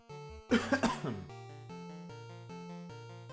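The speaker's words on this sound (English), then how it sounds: "I'll just stop coughing." A few dry coughs in a quick cluster, close and clear, over steady synthesized music from a Final Fantasy game.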